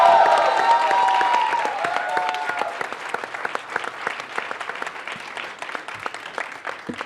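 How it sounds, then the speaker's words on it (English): Fan meet audience applauds an actor being introduced, starting as a loud burst with cheers and whistles, then thinning into scattered, distinct claps that gradually fade out. "Please give him a round of applause."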